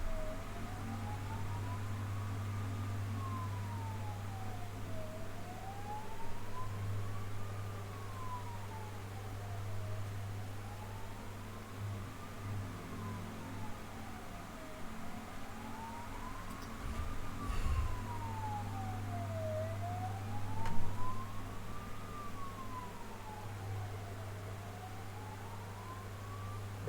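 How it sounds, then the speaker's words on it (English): An ambulance siren wails in a slow, regular rise-and-fall pattern over a low steady hum, fairly distant and faint, holding throughout with no voices. "Ambulance."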